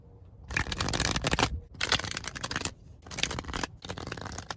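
A deck of tarot cards is shuffled in four distinct bursts of crisp riffling and flicking, each lasting about a second with short pauses between, soft and close, with no voices.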